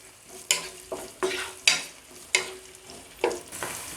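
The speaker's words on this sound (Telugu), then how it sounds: "అండ్ అలాగే ఉల్లిపాయ. వేసుకున్న తర్వాత బాగా కలుపుకోవాలి" Onions frying in a pan are stirred with repeated scraping strokes, about six bright, close bursts over a continuous sizzle, with no talking.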